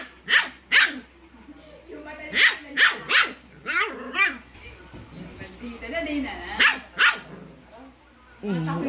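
A young husky-type puppy barks repeatedly in high, yelping bursts, with people talking in the background throughout.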